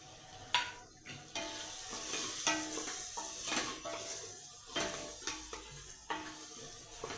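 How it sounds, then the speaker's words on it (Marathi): Garam masala and spices are stirred and sautéed in a pan for mutton biryani, with soft sizzling and repeated scraping strokes of a spatula, close and fairly quiet. "हे सगळं असं परतवून घेणार आहे मी"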